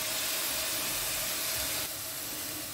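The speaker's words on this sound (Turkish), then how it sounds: "Ocağa götürüp kavurmaya başlıyoruz. Kıymamız yağlı olduğu için pişerken yapışmasın diye birazcık su koyuyoruz." Fatty minced meat sizzles steadily in a pan on the stove after a little water is added, giving a broad, constant hiss that drops slightly in loudness near the end.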